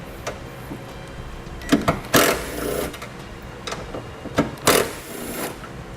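A 10mm socket wrench works bolts loose on the tailgate of a 2019 Honda Ridgeline, giving short ratcheting bursts and metallic clicks in irregular clusters, fairly close and alone.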